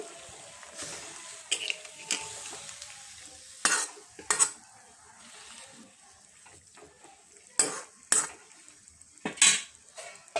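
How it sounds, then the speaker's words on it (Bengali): A spoon stirs jackfruit curry with turmeric in a pan, giving scattered scrapes and clinks in short bursts, several of them sharp and close, over a quiet background with gentle sizzling. "এখন একটু নেড়ে দিচ্ছি।"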